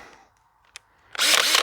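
A power drill with its hammer action switched off gives a faint click, then spins up in a short, loud whirring burst near the end, close by with no talk.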